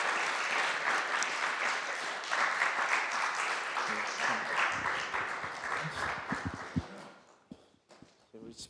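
A church congregation applauds in a dense, sustained round of clapping that slowly thins into scattered claps and faint footsteps and murmurs near the end.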